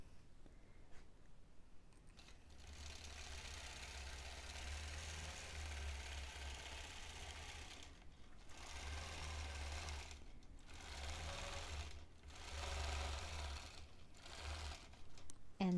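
A longarm quilting machine bastes a quilt, its motor hum and stitching rattle starting and stopping in several bursts separated by short quiet gaps, fairly close and without talk.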